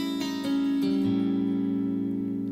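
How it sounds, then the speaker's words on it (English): Clean electric guitar chords ring out, a few strummed changes in the first second, then one chord sustains and slowly fades. "clean tone for you guys so you can hear"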